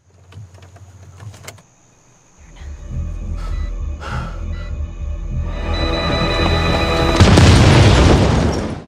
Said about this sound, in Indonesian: Melihat mobilnya meledak, Oliver pun ketakutan bukan main.